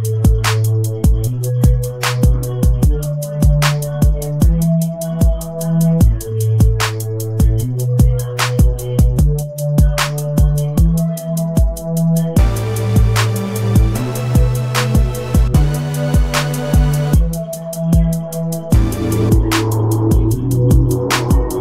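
A steady instrumental beat loops with a punchy low kick, snappy hits and a repeating melodic line, playing loud and continuous with no voices.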